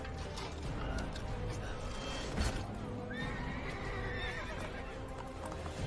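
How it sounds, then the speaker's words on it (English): Horses in a video game whinny over steady hoof clip-clops, with the neighing loud and close above a constant background of game sound. "Ride your horses at him."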